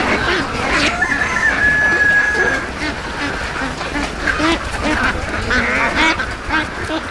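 Ducks quack continuously at close range during a duck-catching contest, many birds calling over each other with some clucking fowl mixed in, and people talking in the background.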